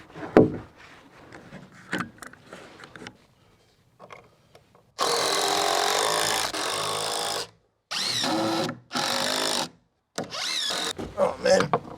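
Power driver running GRK screws, about 2.5 inch, into a roof rafter on a DIY cabin overhang: several loud, sustained whirring bursts with short pauses between, after a stretch of quiet handling and a few knocks.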